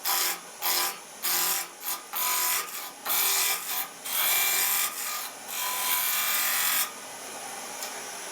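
Steady scraping and rasping of a cutting tool against a wooden handle spinning on a lathe, in repeated bursts with brief pauses, close and fairly loud, ending in a long continuous cut.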